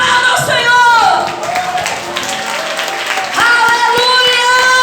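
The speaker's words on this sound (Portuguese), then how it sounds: "aplauda ao Senhor" Church congregation applauding during a sermon, a steady wash of clapping mixed with loud voices, including a sung or shouted phrase, that eases off and then swells again.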